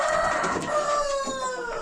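Rooster crowing close by, one long drawn-out crow with a strained, wavering tone that trails off, heard alone without talk.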